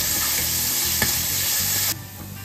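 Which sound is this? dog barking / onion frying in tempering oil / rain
onion frying in tempering oil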